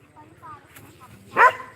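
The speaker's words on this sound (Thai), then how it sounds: "มาเห่านะฮะ" A dog barks at an elephant, one loud, close yap near the end, preceded by soft whimpers while someone talks over it.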